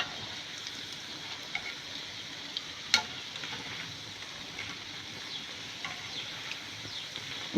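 A bread omelette fries in oil in a pan, giving a soft, steady crackling sizzle close by with a few sharper pops and spatters and no talk.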